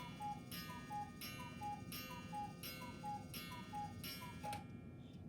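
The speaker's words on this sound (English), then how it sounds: "We have a cuckoo clock in the room here" A cuckoo clock ticks steadily in a room, with crisp, evenly spaced ticks repeating throughout. The ticking is moderately close and continues alone, with no talking.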